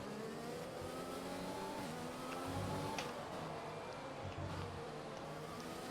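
Race car engine in the F1 2020 video game, held at high revs as a continuous strained whine with slight pitch shifts, fairly quiet and steady across the whole stretch.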